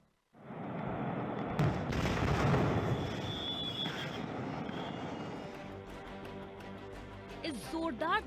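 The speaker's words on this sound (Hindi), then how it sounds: "इस जोरदार धमाके से हरदा दहल गया। हरदा में पटाखा फैक्ट्री में ये ब्लास्ट हुआ।" A firecracker factory explosion in Harda, India: a loud, sustained roar of blasts and crackling bursts, with sharp reports and a chaotic din that slowly gives way to scattered noises.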